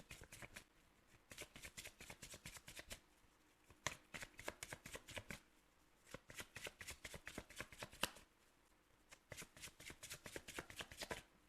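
Tarot cards riffle and flutter in repeated quick bursts, soft and close, with brief pauses between rounds of shuffling and no talking.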